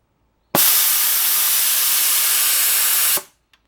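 Pneumatic valve on a PizzaCam animatronic firing open, releasing one loud sharp burst of air hiss that holds steady for about two and a half seconds and then cuts off abruptly, with a tiny click after.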